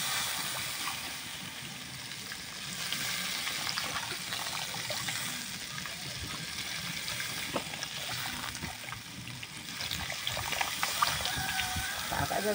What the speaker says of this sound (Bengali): মগে জলটা এবারে দিয়ে দিচ্ছি তরকারি।